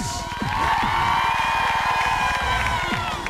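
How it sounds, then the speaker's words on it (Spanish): A crowd at a France versus Uruguay football exhibition cheers and claps for Didier Six, with loud sustained cheering, whistles and shouts, rhythmic clapping underneath, and a swelling roar throughout. "fuerte el aplauso para el señor Didier Six"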